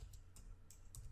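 Code is being typed on a computer keyboard, heard as a few faint, sparse key clicks over a low background hum, with no speech.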